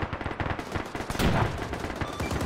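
Sustained suppressing gunfire in a military video game, dense overlapping bursts of automatic and rifle fire echoing continuously, loud and close with a heavier volley midway and no talk.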